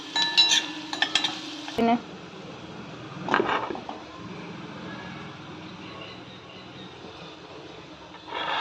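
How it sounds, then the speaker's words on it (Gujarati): Garlic, onion, ginger and chili sautéing in hot oil in a pan: a few close metallic clanks of a utensil against the pan, then a steady low sizzle with occasional stirring scrapes. "લસણ અને આ કાંદો, આ અદરક અને આ મરચી, તેને થોડુંક સાંતળવા દેવાનું."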